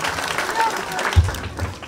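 An audience applauds at a political rally in Murang'a, Kenya, welcoming a nominated official; a short, moderately loud burst of clapping sits under and around a speaker's voice.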